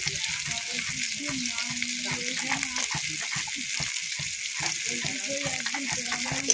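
A spice masala with salt and turmeric fries and is stirred in a pan, producing a dense, continuous hiss up close, with a faint low voice-like murmur underneath.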